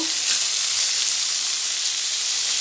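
Ingredients for bottle gourd sambar fry in a pan, slightly overdone, giving a loud, steady hiss-and-crackle sizzle that runs unbroken with no voices.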